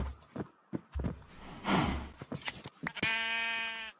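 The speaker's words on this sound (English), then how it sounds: "So there's another sheep over here." A Minecraft sheep gives a single clear, close bleat near the end, after scattered footsteps and small game noises.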